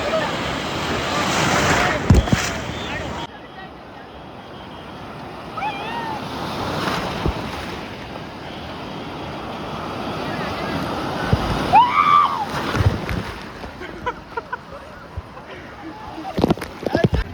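Ocean surf at Malpe beach washes and rolls continuously, with gusts of wind buffeting the microphone and people's voices mixed in throughout.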